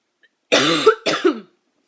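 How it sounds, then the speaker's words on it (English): Two harsh, throaty coughs close to the microphone, the first longer and the second shorter, with quiet before and after. "One second, I got a cough."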